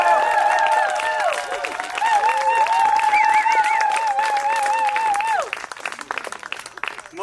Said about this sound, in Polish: No, brawa dla Olgi!